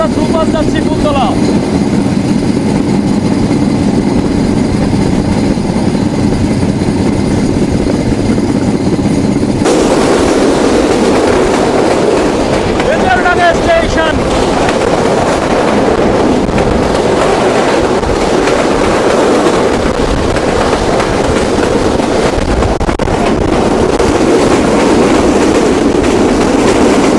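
Heard from aboard, a passenger train between Khulna and Phultala keeps up a loud, continuous rumble of wheels on rail, turning rougher and brighter partway through, with clicking over the joints.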